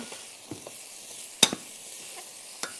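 Onions and peppers sizzling in a pan for a gluten-free taco filling, with a soft, steady fry punctuated by a few sharp scrapes and clicks of a mixing utensil stirring them, one louder clack near the middle.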